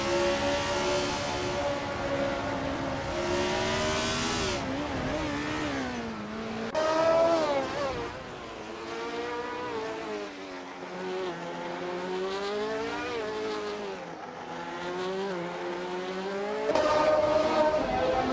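A 1970 Lotus 72D race car in a racing video game screams through repeated upshifts and downshifts, its high engine whine sweeping up and down over a long stretch with other cars buzzing nearby.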